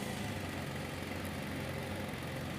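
A 2020-or-later Can-Am Spyder three-wheeler's engine runs steadily and quietly at the start of a test ride, a low, even hum with no talk.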